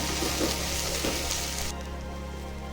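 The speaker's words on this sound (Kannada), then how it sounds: "ಶುಂಠಿ ಬೆಳ್ಳುಳ್ಳಿ ಪೇಸ್ಟ್ನ ಫ್ರೈ ಮಾಡ್ಕೋಬೇಕು" Ginger garlic paste frying in a pan for vegetable pulao gives a steady close sizzle and hiss throughout. It thins somewhat toward the end, with no talk.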